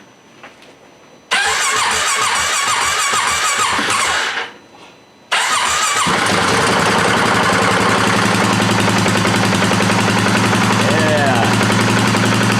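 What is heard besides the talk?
engine starting and running through the muffler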